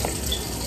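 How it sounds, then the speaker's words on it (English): Water pours from a glass into brownie batter in a home kitchen, a short, close, steady gushing splash. "So we're gonna use this glass and put water."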